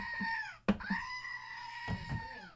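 Goat letting out a loud, wavering bleat, then a second drawn-out bleat, close and alone.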